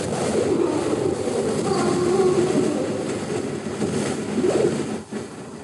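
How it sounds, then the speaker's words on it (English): Steady late-night wind roaring on a phone recording, a continuous rushing low rumble that swells slightly and dips near the end, with no voices. "You can hear the wind in the background."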